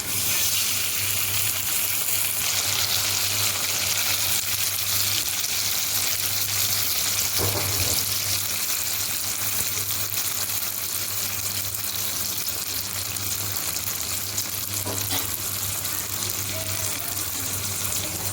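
A spice paste of ground ginger, cinnamon and cardamom stir-fried in a pan, giving a steady, close sizzle with soft scraping stirs and no talking.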